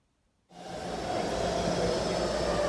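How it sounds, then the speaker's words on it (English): A BART commuter train rumbles in abruptly after a moment of silence, then holds a steady, loud roar with a faint high whine. "We saw a BART train."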